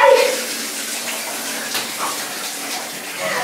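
Cold water pours steadily over a girl at bath time, a continuous close splashing gush that lasts the whole time with little break.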